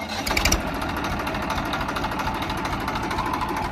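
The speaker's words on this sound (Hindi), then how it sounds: "चलो फिर आप टीलर चला के दिखाओ जी" A Massey Ferguson 241 tractor with a tiller attached runs close by, its engine chugging in a fast, steady, rough rhythm with a dense rattling knock, loud and continuous throughout, no voices.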